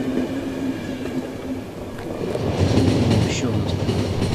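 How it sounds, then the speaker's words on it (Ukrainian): A train in The Final Station video game picking up speed, a steady rumbling roll of wheels and carriage noise that grows a little louder toward the end, with a faint squeal near the close. "Давай, потяг, давай, розганяйся."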